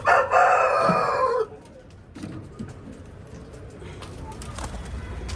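A rooster in a pigeon loft crows once, loud and close, its call lasting about a second and a half before dying away, followed by scattered clucks and faint bird sounds in a quiet yard.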